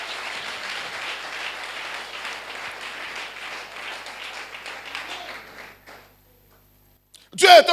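A church congregation bursts into sustained applause and clapping, steady and dense for about five seconds before fading into a brief silence, followed by a short sharp burst of sound at the end.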